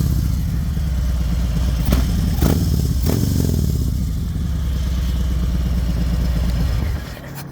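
A 2020 Harley-Davidson Fat Bob with a Vance and Hines exhaust idles with a deep, loping rumble close by, then gives a few sharp blips of the throttle before settling and cutting out near the end.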